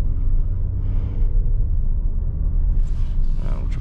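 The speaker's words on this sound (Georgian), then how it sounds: "Exhaust-ის ხმაც ძალიან კარგი" Mercedes GLC 43 AMG exhaust giving a steady, deep low rumble while the car is being driven, continuous and fairly loud throughout with no clear breaks.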